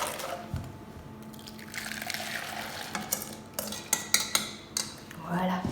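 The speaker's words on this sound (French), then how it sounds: "On mélange et on remet l'ensemble dans la casserole." Custard mixture being stirred and poured back into a metal saucepan, with close utensil clinks and scrapes against the pan and a brief liquid pour, no talking.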